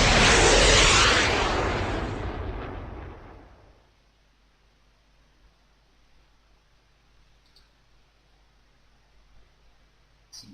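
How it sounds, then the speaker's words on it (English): A Sidewinder missile launches in the naval and air combat game Command: Modern Naval/Air Operations, a loud roaring blast that fades away over about four seconds, leaving near silence and a faint click at the end. "I think you should be able to fire a sidewinder."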